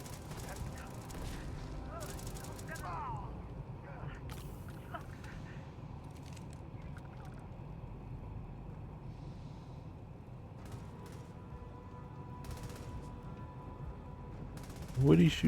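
Gunfire in the space game Starfield comes in scattered sharp bursts and short volleys over a steady low rumble of game ambience, with a louder crack near the end.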